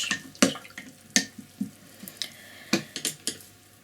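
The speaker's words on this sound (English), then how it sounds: "Let's wash our brush." A paintbrush swished and tapped in a water jar between peony painting strokes, giving soft irregular splashes and clinks, close and fairly quiet, with no talking.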